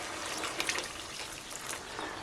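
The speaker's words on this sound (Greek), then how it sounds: "Και τέλος θα βάλω μισό λίτρο νερό." Half a litre of hot water poured into a cooking pot for a beef and vegetable stew, a steady close splashing pour with a few brighter splashes, no talk.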